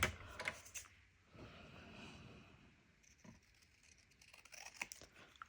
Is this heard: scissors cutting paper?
yes